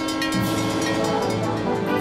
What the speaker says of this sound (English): Hey, there's the train!